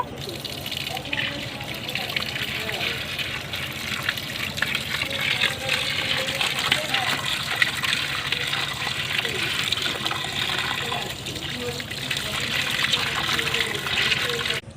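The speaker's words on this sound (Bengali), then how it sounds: "মাছগুলো কাটা হয়ে গেছে, এবার পরিষ্কার করে ধুয়ে নেব।" Tap water gushes steadily into a bowl while pieces of cut snakehead fish are washed, a continuous close splashing rush that lasts the whole stretch.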